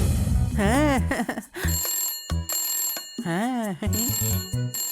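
A telephone in the Honey Bunny cartoon, Telugu dub, rings in two warbling bursts with a bright electronic tone, separated by a short pause with clicks and brief noises.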